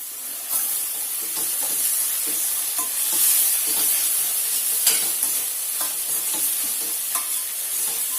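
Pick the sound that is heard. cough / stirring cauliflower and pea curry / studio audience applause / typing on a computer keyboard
stirring cauliflower and pea curry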